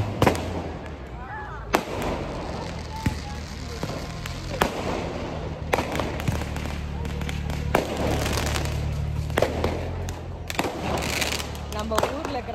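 Diwali fireworks and firecrackers going off in Dubai, a dense string of sharp cracks and bangs over a steady rumbling crowd backdrop, with voices talking throughout.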